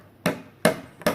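A chisel is struck into a wooden beam for outdoor stairs, giving three sharp, close knocks spaced evenly in quick succession.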